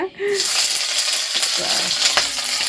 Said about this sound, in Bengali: আস্তে আস্তে লো ফ্লেম করে ভাজাভাজি করার সব ভেজে নে